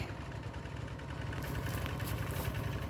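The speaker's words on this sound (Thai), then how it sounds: "ได้ใส่รถไถหน่อยวันนี้นะพ่อ" A farm tractor engine runs on a rice farm with a low, steady, chugging idle that stays fairly faint and continuous throughout. No one speaks.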